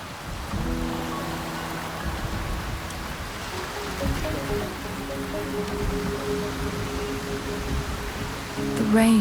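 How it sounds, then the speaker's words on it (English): Steady rainfall in the video game Wuthering Waves, a continuous hiss of drops with a soft tonal music bed underneath and a brief louder swell at the end. "rain is subsiding, and the sky will soon clear"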